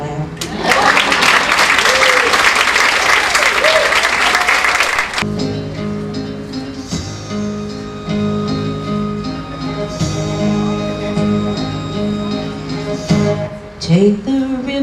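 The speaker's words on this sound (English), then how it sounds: "Now you can clap." An audience at a live Elvis and Frank Sinatra tribute show breaks into loud, dense applause for about five seconds, then it fades as the band's music takes over.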